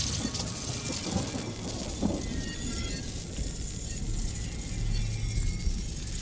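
Steady rain hisses in Nightingale while low thunder rumbles and rolls underneath, with a few stronger swells of the storm.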